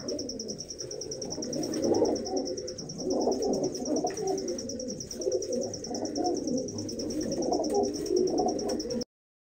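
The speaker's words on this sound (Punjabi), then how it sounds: "ਲਓ ਬਈ ਬੈਠੇ ਕਬੂਤਰ ਤੁਹਾਨੂੰ ਸਾਰੇ ਦਿਖਾ ਦਿੰਦੇ ਆ" Pigeons in a loft coo softly and repeatedly in overlapping, low throaty bursts, joined by a thin continuous high chirping, with no speech.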